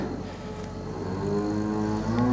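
Farm cattle close by give a drawn-out, low moo that slowly swells in loudness over a quiet background, with no talking.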